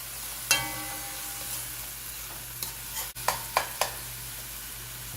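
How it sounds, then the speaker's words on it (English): Spoon stirring brown beans with tomato puree in a pot, a few soft scrapes and knocks against the metal over a quiet sizzling background, close and faint, no talk. "Stir this all up."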